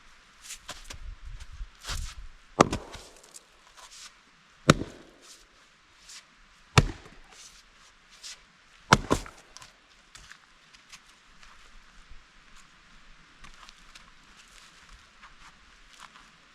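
A Fiskars Isocore 6 lb maul splits dead-standing firewood outdoors, landing about four sharp, loud cracking strikes spaced a couple of seconds apart, with light shuffling and footsteps in between and no talk.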